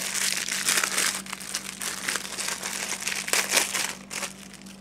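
A small paper envelope of promotional sticky notes from an electronics gift pack is opened, giving steady crinkly paper rustling with brief louder crackles over a faint constant mains hum.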